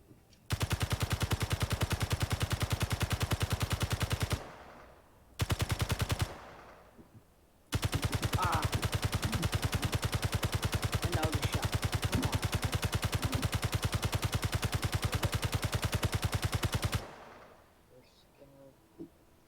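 Sustained automatic gunfire in the space-building game Space Engineers, rapid rattling bursts that stop and restart with brief gaps, loud and close, roughly fifteen seconds of firing in total before fading to quiet.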